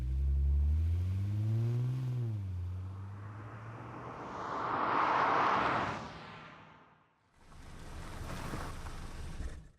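A car engine rumbles low and steady, then swells into a rushing whoosh as the car passes close by. After a brief dip, a second broad roar of engine and road noise follows.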